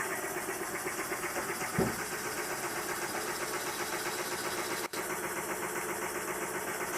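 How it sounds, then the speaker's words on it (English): A model steam engine running on compressed air chugs steadily at a quick, even rhythm, with a soft thump early on and a brief dropout later; no voices. "I'll run the engine on compressed air"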